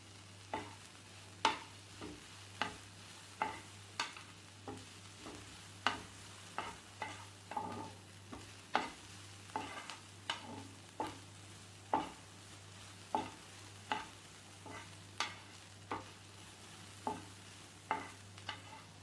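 Sesame seeds fry softly in a pan for an onion paratha filling under a faint, steady sizzle. A utensil scrapes and stirs in a regular rhythm of sharp, close ticks.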